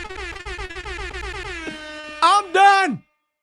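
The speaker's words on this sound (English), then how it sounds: "Hit the air horns, Jay." Blaring air horn blasts over a loud, harmonic tone, ending in two sharp bursts before cutting to silence.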